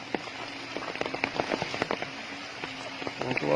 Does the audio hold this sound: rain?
yes